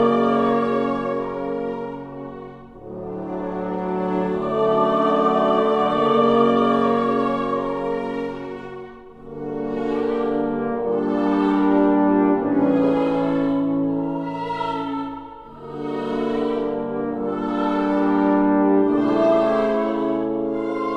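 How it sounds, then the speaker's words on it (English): Orchestral passage for a small ensemble of choir, strings and brass, sustained swelling chords rising and falling in long phrases, full and resonant with no talking. "choir, strings and brass, but very few performers needed"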